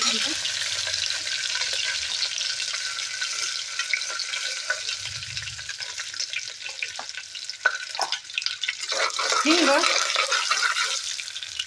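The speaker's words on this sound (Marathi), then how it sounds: "तमालपत्र, कढीपत्ता, छान असं हलवून घेते।" Bay leaves and curry leaves, with cinnamon, sizzle in hot oil in a pan while being stirred for a rice dish. A steady bright crackling hiss continues throughout, with occasional scraping stirs, and someone talks over it.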